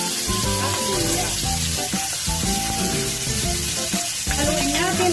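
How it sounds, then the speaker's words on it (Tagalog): Onion, tomato and ginger sautéing in a hot pan, a loud continuous sizzle with the clatter of stirring, close up and without talk. "Haluin natin, antayin natin na maluto konti yung kamatis."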